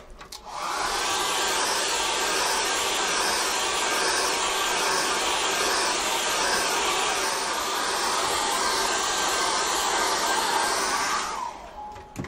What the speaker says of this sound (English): I'm going to hit that with a hairdryer.